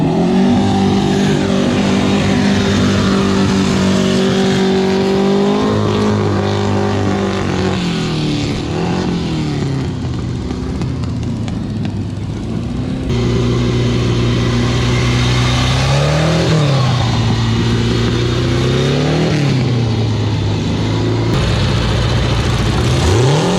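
A modified mini car at a drag strip runs loud and close, its engine revving up and down repeatedly throughout with strong, continuous power and no talk over it.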